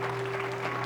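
A church congregation claps together in a brief, dense burst of applause, steady and fairly loud, with a sustained tonal hum beneath it.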